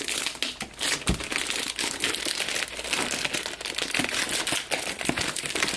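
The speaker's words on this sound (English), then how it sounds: "we've got a fair bit of tape that we need to get past" Packing tape peeled and torn off a cardboard box, a continuous crinkling, ripping rasp that stays close and fairly loud throughout with small bursts and catches.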